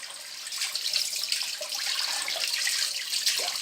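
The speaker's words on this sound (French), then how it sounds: "je vais juste les rincer, bien les dessaler, c'est tout" Salted smoked trout rinsed under running water from a tap: a steady, close splashing rush of water hitting the fish and sink, with no voices.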